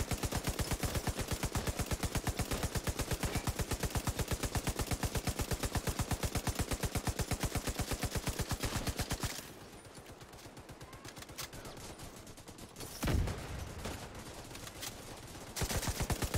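Rapid automatic gunfire in the video game The Division, a dense sustained burst of shots for several seconds, then sparser scattered shots and a heavy thud at a distance.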